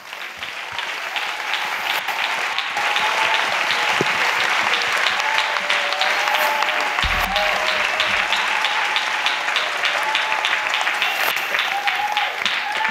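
Audience at a church gathering applauding a volunteer, with loud sustained clapping that fills the space while a voice speaks over it.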